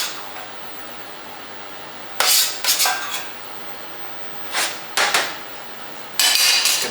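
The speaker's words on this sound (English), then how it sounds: "Just going to mash up that butternut squash there, what's left of half, and I'm just going to make that into a puree" Butternut squash being mashed into a puree, several sharp clattering bursts of a masher or utensil knocking against a pot, irregular and close, separated by quiet pauses.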